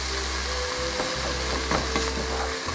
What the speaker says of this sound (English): So these onions have to be browned.